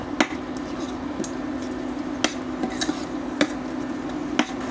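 Masala paste and a cup of yogurt being mixed in a pan for veg kuska rice, heard as repeated sharp spoon-on-pan clinks and scrapes at an uneven rhythm over a soft background hiss, with no voices.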